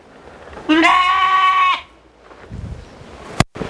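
A single loud, close bleat from a Dorper sheep lasts about a second on a farm, followed by quieter shuffling and a sharp click.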